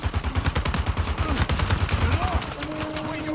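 Rapid bursts of M4 rifle fire in the Uncharted 4 video game, loud and repeated in a quick staccato rhythm, with voices speaking over the shooting as it tapers off.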